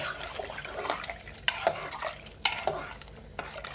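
A spoon stirs sambar (Indian lentil stew) in a pot, with scraping strokes and a few sharp metallic knocks against the rim, over a faint sizzle.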